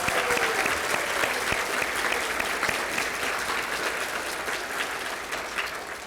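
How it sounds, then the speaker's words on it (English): An awards ceremony audience applauds students, a dense, continuous wash of many people clapping that holds steady for several seconds and tapers only slightly at the end. "Let's give our students one more round of applause."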